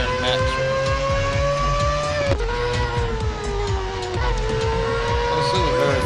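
A very fast race car in the Real Racing 3 video game roars at high revs, its engine pitch climbing and dropping with gear shifts, steady and loud throughout.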